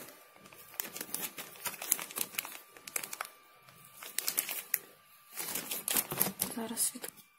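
Small plastic packets crinkle and rustle in bursts as they are handled during an unboxing of soapmaking supplies, the crackling close and fairly quiet, with brief pauses between handfuls.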